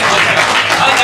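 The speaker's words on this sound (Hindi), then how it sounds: "मैंने कहा ना कि जुबैर साहब की गजल का हर मतलब तालियों का मुस्तहिक है।" Applause from an audience at an Urdu poetry recital in Bhusawal, a brief dense burst of clapping that stays loud throughout, with voices faintly mixed in.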